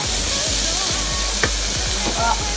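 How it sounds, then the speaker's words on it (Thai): Shiitake mushrooms and blanched oysters are stir-fried in a pan, a loud continuous sizzle with a low hum and a rhythmic series of stirring scrapes and taps. "หอยนางรมนะคะ ที่เราลวกไปเมื่อสักครู่นะคะ มาใส่ลงไปผัดต่อเช่นกัน ผัดไปเรื่อยๆค่ะ"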